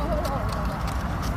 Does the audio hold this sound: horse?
yes